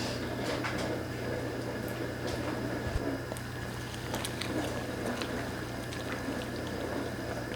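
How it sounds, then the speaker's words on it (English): A pot of chopped hot sauce peppers bubbling at a boil on the stove, a steady close rumbling burble with a low hum and scattered small pops and clinks, no talking. "we have come up to a boil"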